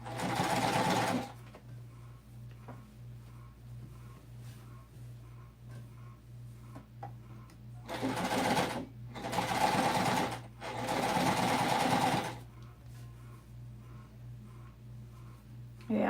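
A sewing machine top stitching a minky blanket runs in three bursts of fast, rhythmic stitching, each lasting a second or a few seconds, close and clear over a faint steady hum, with quiet pauses between.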